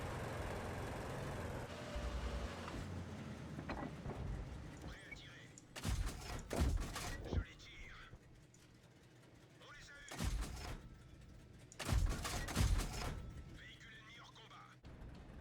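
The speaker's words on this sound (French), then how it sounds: "j'ai un canon qui mitraille" Rapid-firing autocannon in World of Tanks gameplay, with loud clustered bursts of shots repeating several times over engine rumble, and someone talking between the volleys.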